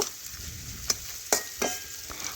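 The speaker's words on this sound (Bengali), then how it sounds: "এখন এই পেঁয়াজটা আমি একটু কিছুক্ষণ ধরে লাল লাল করে ভেজে নেব।" Finely chopped onion frying in a pan for chicken do pyaza, a steady sizzle broken by several sharp scrapes as the onion is stirred, close and moderately loud with no talking.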